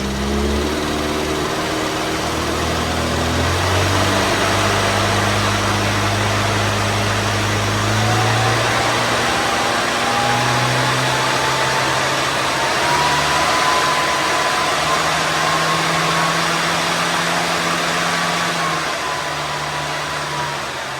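Engine of a fast-road Mini on a road tune, revved up and down across the rev range, with rising and falling engine tones sustained loudly over twenty seconds and no talking.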